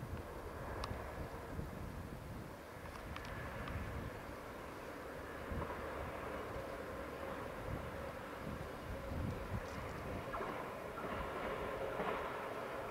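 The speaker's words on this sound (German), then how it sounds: "ich habe sogar Glück, es kommt ein Regionalzug." A regional train runs through the Danube valley near Hausen im Tal in summer, a steady distant rumble of rail wagons rolling past beneath open-air wind noise, with no talking.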